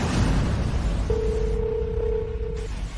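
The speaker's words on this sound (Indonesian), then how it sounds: "Saya akan telepon ibu sekarang." A phone tone sounds as a call is dialled: a single steady beep held for about a second and a half, under loud rumbling background noise in a drama scene.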